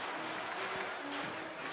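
Football crowd at a high school varsity game cheering and clapping in a steady, dense wash of noise, with a band's sustained tones rising faintly beneath the roar.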